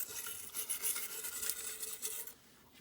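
A scrub brush working degreaser over parts of an SR Suntour M3030 coil suspension fork, brisk close bristle scraping in quick repeated strokes for a couple of seconds.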